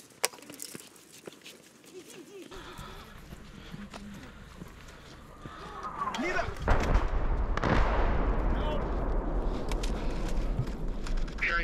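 Heavy artillery shelling in Irpin, Ukraine: a loud, booming explosion hits about two thirds through, its roar and rumble carrying on to the end, after quieter stretches of distant thuds and movement.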